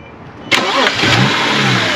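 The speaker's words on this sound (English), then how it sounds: "All right, so he's gonna start his car now." Car engine starting up close, a sharp crank that catches within a second and settles into a loud, steady idle.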